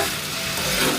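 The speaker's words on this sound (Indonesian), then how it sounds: "Tunggu sampai mendidih, hancur semua gulanya," Sugar melting and coming to a boil in a pan makes a loud, steady hissing bubble, close and continuous for a moment with no voice over it.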